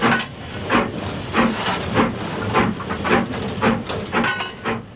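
Train on the West Highland line hauled by a Class 47 and 37412 diesel, running on rails with a steady rhythmic clatter of wheels over joints, heard from on board, loud and continuous with no talk.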